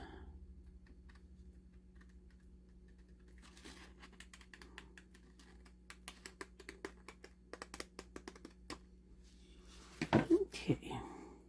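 Paper being trimmed for a handmade journal page: a run of short crisp cutting and crinkling strokes, then a louder cluster of rustling near the end over a steady low hum.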